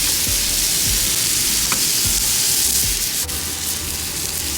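Chuck eye steaks sizzle loudly and steadily on a hot Himalayan salt rock, a continuous close frying crackle with small pops and no voices.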